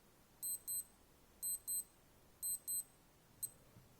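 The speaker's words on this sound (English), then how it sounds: "Somehow you can somehow you can test the flash and beeping," A Casio G-Shock GD350 digital watch sounds its alarm: three pairs of short, high, sharp beeps at an even pace, faint against a quiet background, followed by one last brief chirp.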